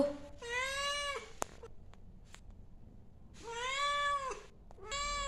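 A cat meows three times close by, drawn-out, plaintive cries with quiet gaps between and a single sharp click in one pause.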